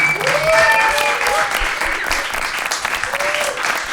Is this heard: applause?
yes